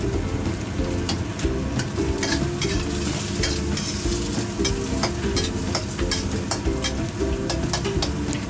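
Pork skin dipped into hot oil for crispy pork, a large 10-kilo batch, giving a loud, dense, continuous crackling sizzle with sharp popping bursts throughout, no voices.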